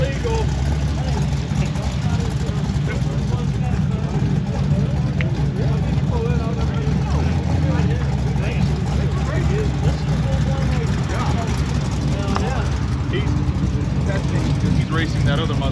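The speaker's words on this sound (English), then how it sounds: "He's racing that other Mustang that just come off the trailer." Mustangs drag racing at a track: a steady, dense drone of engines and crowd noise, close and continuous, with people talking over it throughout.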